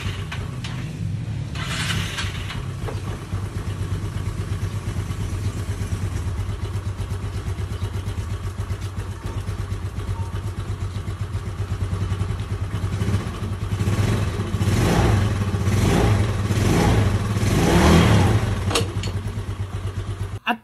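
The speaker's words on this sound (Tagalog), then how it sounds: "So paandarin natin para makita nyo kung all goods na ba yung motor." A rebuilt Yamaha Fino scooter engine idling with a steady rattling putter, then revving up in several rising surges toward the end, close and fairly loud throughout.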